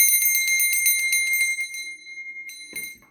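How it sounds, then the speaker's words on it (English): A small single bell on a table rings in a quick run of bright, rapid strokes, then sounds twice more after a short pause. The ringing is close and clear, with no talking. "It's like when they do this bell in a ceremony"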